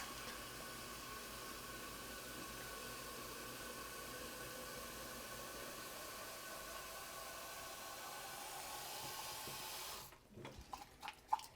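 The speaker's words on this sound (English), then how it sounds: "just going to rinse them tonight" Water runs steadily into a jar of sprouting seeds being rinsed, a soft even hiss for about ten seconds, then it cuts off, leaving faint clinks and handling sounds.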